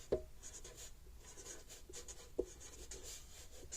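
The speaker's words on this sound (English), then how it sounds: "we'll take a black permanent marker, write down Gallagher" A black permanent marker writing on a label, close and quiet, with soft scratchy felt-tip strokes and a couple of small taps as the pen touches down.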